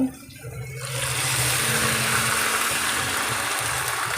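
Water is poured into a hot pan of frying Gobindobhog rice for pulao, bursting into a loud, sustained rushing hiss after a brief quieter moment, then holding steady to the end.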